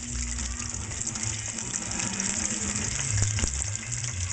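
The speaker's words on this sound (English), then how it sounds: "See how the bubbles are rolling nice and small." Chicken tenders and jumbo shrimp in tempura batter deep frying in a pot of oil, giving a steady, even sizzle and fine bubbling hiss that continues without a break and with no talking.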